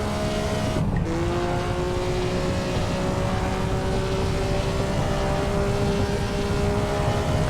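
A historic 1954 Formula One car in Assetto Corsa races the Reims-Gueux French Grand Prix circuit, its engine droning loud and close with sustained tones that dip sharply once early, then climb steadily through the gears.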